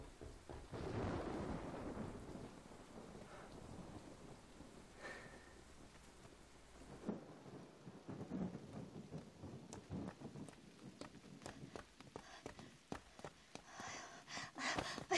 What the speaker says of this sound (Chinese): 这雨还没停呢